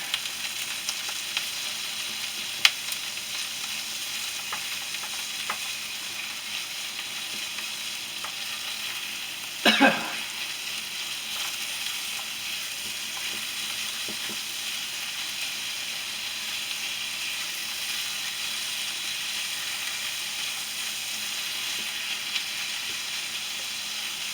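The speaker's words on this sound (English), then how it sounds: "now we're going to put this meat in here. Put the lid on it, well, just kind of stir it up a little bit." Philly cheesesteak meat fries in a pan with a continuous hissing sizzle, broken midway by a brief scraping stir and a few faint clicks, close and steady for the whole stretch.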